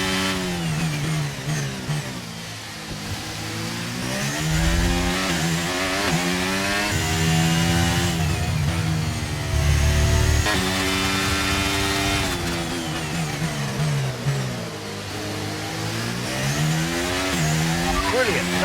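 An F1 race car in the video game F1 23 screams at high revs through a long continuous run, pitch climbing and dropping with gear shifts, with tyre squeal mixed in and a voice faintly present.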